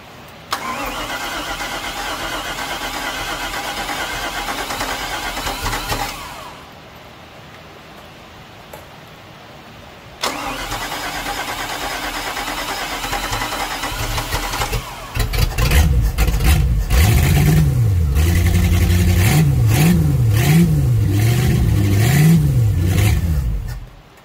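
A $500 Mercruiser 5.7 V8 marine engine, run on the ground before being installed in a Maxum 2300SC boat, cranks and catches. It runs loud and steady, pauses briefly, starts again, then revs up and down in rising and falling surges.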